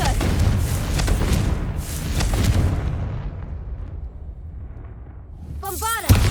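Confringo fire spell from Hogwarts Legacy, heavy booming blasts and crackling bursts that fade into a low rumble, followed by a brief whooshing, warbling magical effect at the end.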